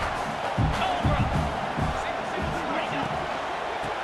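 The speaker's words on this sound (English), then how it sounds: "you just know the home crowd is loving this" A home crowd at a Notre Dame college football game roars in a broad, continuous wash of cheering, with swells and a few sharp whoops and thuds, as a commentator's voice runs over it.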